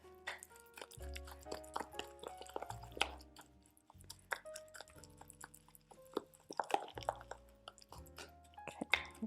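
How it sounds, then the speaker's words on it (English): Ripe bananas are mashed and smushed into a lumpy paste, giving soft, wet squishing and squelching strokes in an irregular, close-up rhythm. "We really need to get those chunks of banana smushed down"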